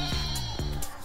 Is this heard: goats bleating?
yes